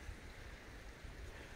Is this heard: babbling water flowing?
yes